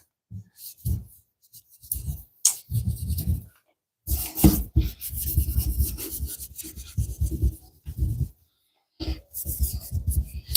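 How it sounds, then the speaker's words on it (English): Scrubbing a dirty counter clean during a house renovation: bursts of close, rough rubbing and rasping strokes come in uneven spurts separated by short pauses. "So almost done scrubbing this down."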